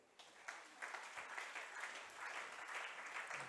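A church congregation applauds during a Sunday sermon with steady, sustained clapping from many hands, heard faint and somewhat distant throughout, with no voices over it.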